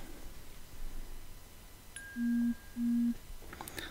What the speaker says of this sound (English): That very light ding that you heard is the text message with the code arriving.